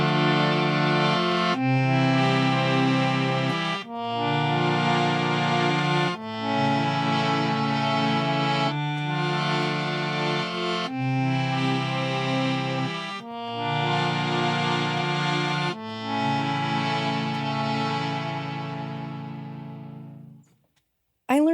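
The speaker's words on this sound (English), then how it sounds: "I mean, I kind of play harmonium, which sounds like this." A harmonium plays a slow sequence of sustained reedy chords, each held for a couple of seconds with brief gaps between them, ending with a fade and a short click.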